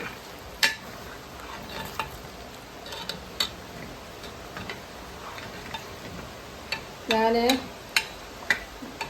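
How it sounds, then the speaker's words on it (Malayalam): Scattered clinks and scrapes of a spoon stirring aravana payasam, a sweet temple offering, in a pan, with irregular light taps and a brief voice-like murmur partway through. "ഇനി നല്ലപോലെ ഇളക്കി കൊടുക്കണം."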